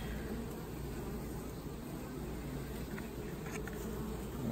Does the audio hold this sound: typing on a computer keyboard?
no